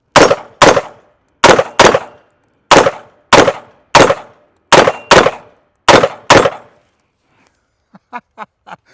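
A BA-15FC AR-style shotgun fires a string of loud, sharp blasts, mostly in quick pairs, about ten shots in all. After a pause come a few faint, softer clicks or distant pops.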